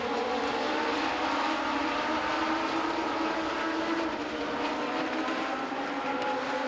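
Legends race cars run nose to tail for the lead at Langley Speedway, their engines blending into a loud, continuous roar that holds steady throughout.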